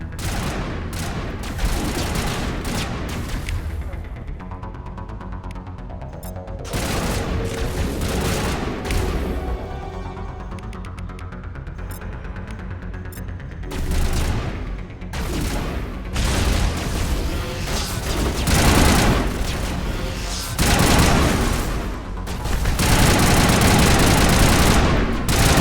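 Sustained Mass Effect video game gunfire: dense rattling bursts of automatic weapons punctuated by heavy booms and blasts, loud and continuous throughout with brief lulls, with an engine-like drone in the background.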